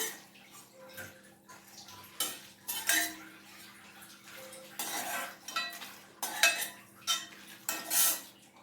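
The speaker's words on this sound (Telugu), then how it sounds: "ఇవన్నీ ఒక పళ్ళెంలో తీసుకోవాలి మనం." Roasted red chilies and coriander seeds are scraped from a pan onto a plate, producing repeated metallic scrapes and clatters in uneven bursts, fairly close, with no talking.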